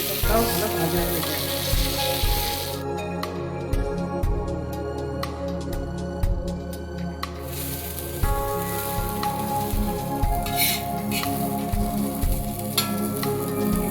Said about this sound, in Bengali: এপিট ওপিট করে বারবার উল্টে পাল্টে ভাজতে হবে